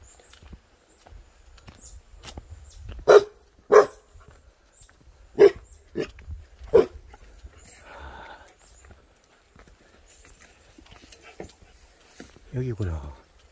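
A dog near a mountain valley gives several sharp, loud barks spaced a second or two apart, with quieter rustling and faint voices in between.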